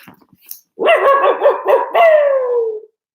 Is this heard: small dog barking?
yes